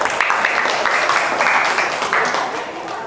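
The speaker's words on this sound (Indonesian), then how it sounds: "mari kita sambut peserta nomor 4 atas nama Faresa Nurdwi Oktaviani dengan tepuk tangan yang meriah" An audience at a children's preaching competition in a mosque claps for a participant, a dense, steady applause lasting a few seconds with a voice faintly mixed in.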